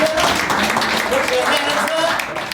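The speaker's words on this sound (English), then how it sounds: "just give yourselves a round of applause" Teachers at an education summit reception in Jamaica applaud themselves, a broad wash of clapping with a voice speaking over it throughout.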